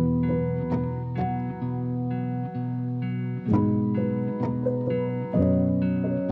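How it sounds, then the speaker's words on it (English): A very simple layered guitar arpeggio for a sleepy lo-fi beat, with clear plucked notes repeating in a slow, even pattern and ringing tones stacking over each other, played alone with no voices. "So I started with layering a really simple guitar arp,"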